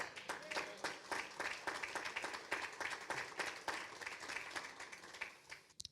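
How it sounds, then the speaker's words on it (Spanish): A church congregation claps during a preacher's sermon, a continuous patter of many hands, faint and distant, with small swells and dips throughout. "¿Cuánto le da un aplauso al Señor?"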